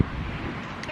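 Wind gusting outdoors, a steady broadband rush with buffeting across the microphone, fairly quiet and continuous, with no voices.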